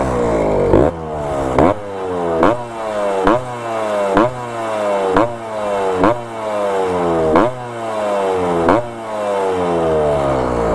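A Yamaha RX 135 two-stroke motorcycle, its bore knocking lightly after long disuse, is revved repeatedly, each loud rising blip spiking then dropping back to a crackling idle, about ten regular bursts heard close up with no talk.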